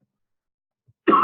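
A single short cough bursts out at the very end, after near silence.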